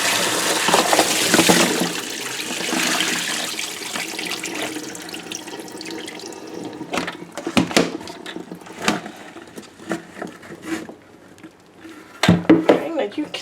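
Lime solution and pickles are dumped from a bucket into a kitchen sink during pickle making, giving a loud rush of pouring water followed by splashes, knocks and clatter. Speech is also present.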